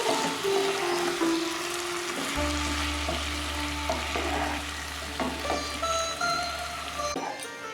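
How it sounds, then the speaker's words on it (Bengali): Soaked, drained sago is stirred into a frying pan for sabu poha, a steady hissing sizzle with scraping spoon strokes and a low hum partway through, close and continuous with no voices. "সেটা দিয়ে দেবো এর মধ্যে দিয়ে ভালো করে মিশিয়ে নেব"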